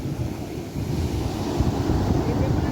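Sea waves wash onto a beach in Kerala, a steady, loud low roar of surf blended with wind buffeting the microphone, continuous throughout with no voices.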